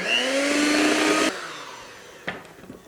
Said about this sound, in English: add our flour in 3 batches and mix until each batch is incorporated on a low speed